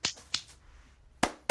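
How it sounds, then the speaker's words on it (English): Sharp claps from a clapping toy, a soft golf clap: a couple of quick dry snaps at the start, a gap, then two more crisp claps near the end, close and distinct. "That was a golf clap."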